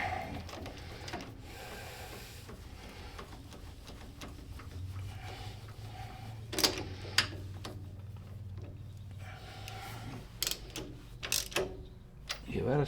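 Bolts being snugged down with a wrench on the head of a 25 hp Kohler Command engine during a head gasket job: scattered close metallic ratchet clicks and taps in short bursts over a low steady hum.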